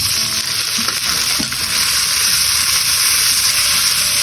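Onion sautéing in a pan for tinola, a Filipino snail soup, with a steady, close sizzle and hiss throughout and a couple of soft stirring scrapes near the start.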